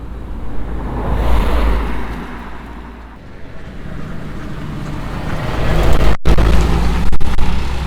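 A lorry rumbles past nearby on a single-track road, a low engine roar mixed with wind buffeting that swells and fades, then builds again toward the end.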